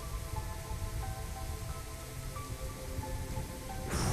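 Steady rain pours in a horror video game, a dense, even hiss holding throughout with faint tonal game sounds layered beneath, swelling slightly louder at the very end.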